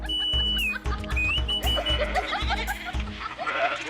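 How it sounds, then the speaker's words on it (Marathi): Sheep bleating in an animated folk tale, several cries overlapping above a rhythmic, thumping backing, loud and close. "मेंढ्या एकाएकी का ओरडायला लागल्या हे पाहण्यासाठी सदूनं आपली मान वळवली"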